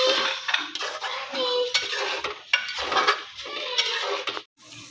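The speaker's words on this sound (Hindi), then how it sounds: "1 कप दही डालनी है इसके अंदर, इसी से ही फ्लेवर आता है बहुत अच्छा, और इसको अच्छे से मिक्स करना है अब।" A metal spoon stirs yogurt into beef karahi in a pot, giving a continuous close scraping and clattering against the pot with short rhythmic strokes and no talking.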